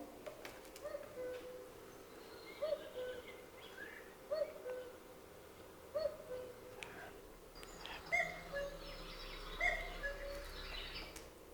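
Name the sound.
cuckoo bird call recording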